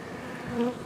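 Honeybees buzz steadily and close by at an open hive in a short, continuous hum.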